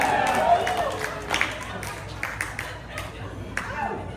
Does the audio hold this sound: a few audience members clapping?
yes